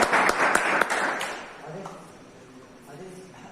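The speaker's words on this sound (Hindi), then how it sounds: "जोरदार तालियों के माध्यम से उनका स्वागत करें।" An audience at a farewell ceremony at Taranam Gurukul in Semalkhedi welcomes a guest with a burst of clapping that fades out after about a second as murmuring voices continue underneath.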